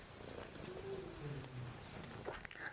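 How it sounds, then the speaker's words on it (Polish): A cat purrs steadily and softly up close, a low continuous rumble held over a faint background hiss. "O, tu jest kot."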